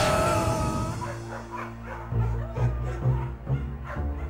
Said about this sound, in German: Achtung, der nächste Hund kommt.